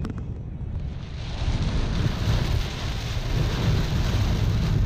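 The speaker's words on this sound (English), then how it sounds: "We got a major storm." A major thunderstorm with winds of about 75 mph hits a Texas road: a continuous low rumble of thunder blends with heavy rain and wind buffeting, heard from inside a stopped vehicle.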